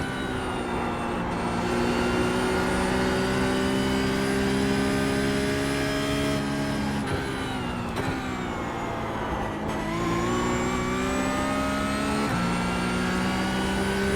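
Porsche 992 GT3 Cup race car in iRacing, its engine droning steadily and loudly through the whole stretch, pitch rising and dipping with gear changes and lifts, with no talk over it.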